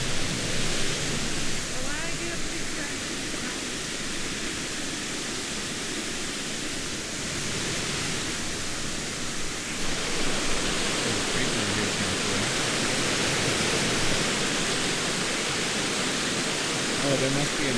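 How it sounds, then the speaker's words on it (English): A waterfall on a forest trail in Washington gives a constant, full roar of rushing water, loud and close, with no break throughout. "there must be another waterfall way up there somewhere"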